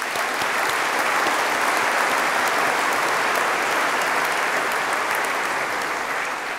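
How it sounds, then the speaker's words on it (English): A graduation ceremony audience gives sustained, loud applause with some cheering, a dense even wash of clapping from start to finish and no talking. "Just give yourself a cheer, it's amazing."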